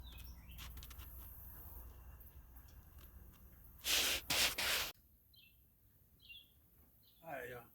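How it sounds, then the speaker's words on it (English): Small birds give a few brief, high chirps outdoors on a lake in the morning, heard from a houseboat deck. Rustling and handling noises come in between, and a voice is heard briefly near the end. "Listening to the birds."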